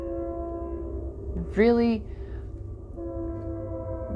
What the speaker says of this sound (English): See, we even have the train horn.